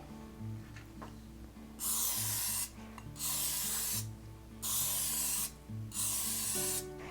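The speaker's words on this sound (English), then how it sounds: "we'll need to spray those with non-stick cooking spray" Four bursts of non-stick cooking spray into ramekins, each hissing for about a second, separated by short pauses, over a low steady hum.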